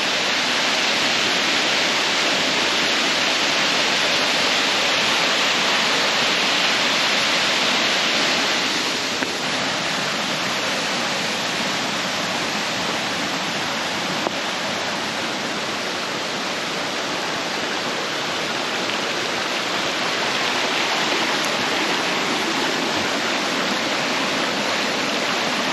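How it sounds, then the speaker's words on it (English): A waterfall along a multi-day hiking trail at Pictured Rocks National Lakeshore roars with a loud, constant broadband rush of falling water that holds steady throughout, with no voices over it. "Waterfall."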